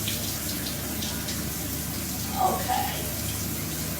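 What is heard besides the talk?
shower water running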